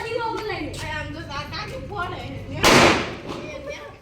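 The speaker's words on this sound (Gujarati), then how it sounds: "કેવો ફટાકડો પડે" A firecracker bursts with one sharp, loud, broadband crack about two-thirds of the way in, fading quickly, while people talk nearby before and after it.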